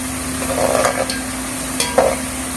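Chicken biryani ingredients frying and stirred in a pot, a steady low sizzle with a few brief scraping stir strokes, close and moderately loud, no talking.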